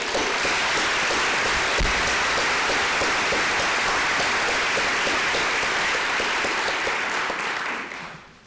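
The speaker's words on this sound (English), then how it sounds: "would you please stand for a round of applause?" An auditorium crowd applauds a scholarship donor at a college awards convocation: thick, even clapping holds loud throughout, then fades quickly at the very end.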